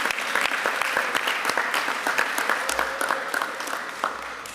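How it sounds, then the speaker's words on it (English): Crowd applause at a retirement security rally with the mayor of New York, a dense burst of steady clapping from a sizable audience that fills the moment and slowly tapers. "So let's give Anze a round of applause for saying it so well"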